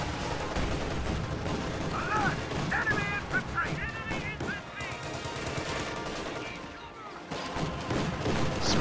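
Artillery barrage mixed with rifle fire in a WW2 strategy game, a steady clatter of shots and distant booms running continuously, with a voice talking over the battle.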